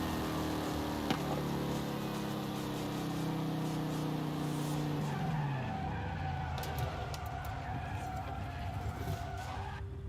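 Sustained tire squeal from a car drifting in Forza Horizon 5, with the engine droning underneath and the pitch sliding downward as the skid winds out, then more scrabbling tire noise near the end.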